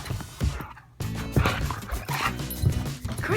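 A puppy yips and barks in short bursts, close and fairly loud, with a few whimpers between, and a person's voice briefly underneath.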